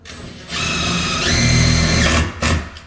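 A power drill bores a hole for barn door hardware, whining up to speed and holding a loud, close buzz for a couple of seconds before stopping, then a brief second burst.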